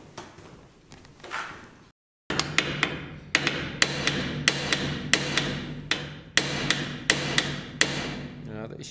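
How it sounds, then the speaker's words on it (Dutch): Metal hammer blows striking a heated tank dome, a steady series of loud sharp clanging hits with ringing decay, preceded by softer rustling and a brief pause. "Dat moeten we met de hamer doen."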